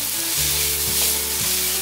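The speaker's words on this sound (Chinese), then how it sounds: "姜末炒香后放入杏鲍菇，" King oyster mushrooms and minced ginger stir-fry in hot oil with a steady, close, loud sizzle, and a faint tonal hum underneath.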